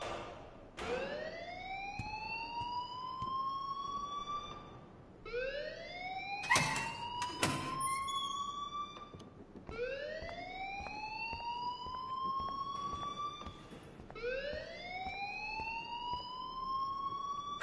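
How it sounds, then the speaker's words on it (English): An alarm rings in the video game Life is Strange: a repeating wail that rises in pitch, heard five times in steady cycles, with a couple of sharp bangs partway through. "please turn off that alarm since that's your job"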